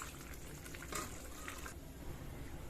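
Water pours steadily into a coconut curry made without vegetables or lentils, a soft continuous splashing and trickle with one brief louder gush midway; no one speaks.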